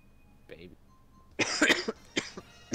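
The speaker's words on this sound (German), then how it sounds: "Wer hat denn da Husten?" A person coughs close to a microphone, giving several harsh bursts in quick succession. A voice talks briefly just before the coughing.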